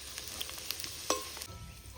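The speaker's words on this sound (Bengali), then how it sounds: "আলুটা সুন্দর করে লাল লাল করে ভাজা হয়ে গেছে" Potatoes fry in a pan with a steady soft sizzle, close and fairly quiet, punctuated by a few small pops and a brief clink of utensil.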